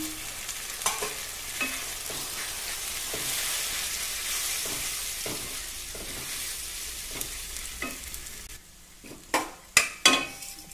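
Ingredients for a turkey berry curry with chili and coriander powder fry with a steady soft sizzle in a pan while a spoon stirs and scrapes at intervals, ending with several sharper clanks against the pan.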